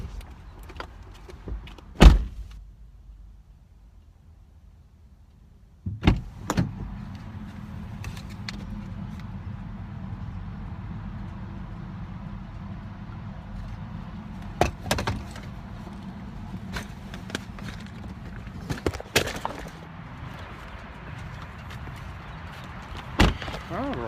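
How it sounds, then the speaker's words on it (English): Getting out of a car: a sharp door thunk early, then a shift to open outdoor ambience with a low rumble, scattered clicks and knocks, and a couple of louder door-like bangs later, with a voice talking at times. "I'm just gonna hop out of the car"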